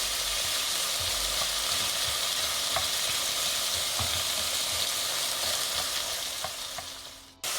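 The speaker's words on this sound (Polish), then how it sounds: "Wszystko podsmażamy na średnim ogniu." Onion and chives fry in hot oil over medium heat, a steady, constant crackling hiss with occasional soft stirring clicks, close and loud, with no voices.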